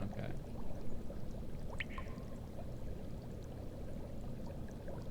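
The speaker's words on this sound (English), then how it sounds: "You hear the sound of boiling water, Chief?" Five gallons of water boil in a metal drum, making a steady, low rushing bubble that runs throughout, with a few faint higher clinks over it.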